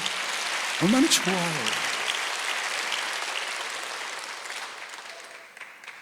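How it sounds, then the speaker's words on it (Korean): A church congregation claps steadily through a Korean Sunday worship service, a broad wash of applause that slowly fades, while a preacher speaks briefly near the start. "박수 좀 쳐요."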